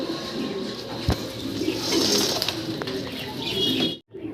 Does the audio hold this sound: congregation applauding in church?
no